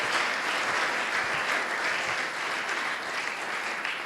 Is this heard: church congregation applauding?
yes